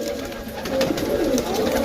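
A pigeon coos softly and repeatedly, low and close, over light background noise.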